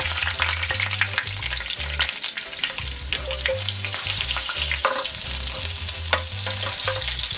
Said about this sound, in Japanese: 揚げていきます